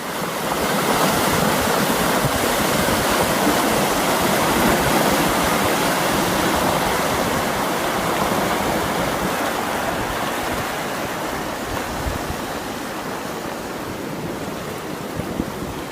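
Floodwater from an ice jam surges over the riverbanks near Logan, Montana, making a loud, continuous roaring rush that stays dense and unbroken from start to finish.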